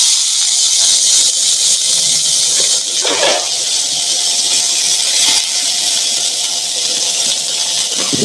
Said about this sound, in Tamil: நல்லா மீன் குழம்பு கொதிக்கட்டும்.